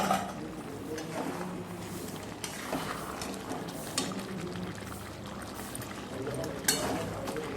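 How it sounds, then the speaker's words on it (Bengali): Water poured into a pot of mutton being cooked down with spices, a soft continuous pouring and sizzling bubbling close by, with kitchen clatter and light background noise. "আর একটু জল দিয়ে মাংসটা ভালো করে কষিয়ে নিচ্ছি আবার"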